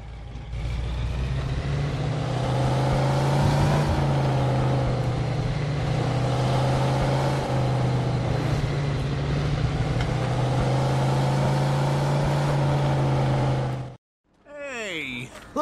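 Car in the video game Mafia II driving into a junkyard, a loud steady engine drone with slight revving rises and falls for most of the clip before cutting off, with a brief voice at the end.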